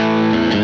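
A short burst of electric guitar played through a TH-U Slate amp simulator with a country tone and a boost after the amp, one sustained, gritty chord ringing out loud and alone.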